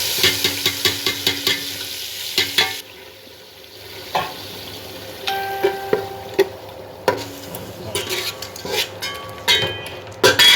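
Ginger, garlic, cumin, garam masala, bay leaf and black pepper hit hot oil in a pan for a tomato beef curry, giving a burst of sizzling frying followed by intermittent stirring scrapes and clinks of a utensil against the pan.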